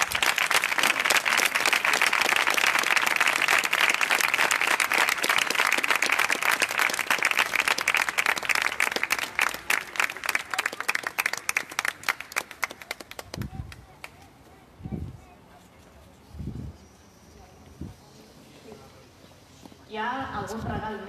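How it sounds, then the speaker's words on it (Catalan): A Holy Week proclamation crowd in Sant Vicenç dels Horts gives dense, loud applause for about thirteen seconds before it breaks into scattered claps, after which a voice speaks faintly in the room. "I podeu aplaudir."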